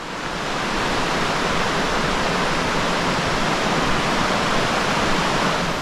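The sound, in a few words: waterfall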